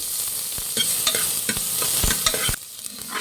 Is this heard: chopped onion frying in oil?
yes